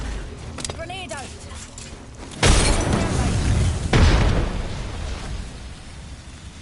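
A video-game grenade goes off with two deep, booming blasts a second or so apart, each followed by a rumbling, crackling decay, with game effects and a voice heard earlier.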